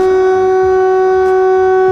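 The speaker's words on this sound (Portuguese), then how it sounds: "geralmente essas sirenes tocavam antigamente" An air raid warning siren holds a loud, steady, droning tone throughout, with no pause or voice over it.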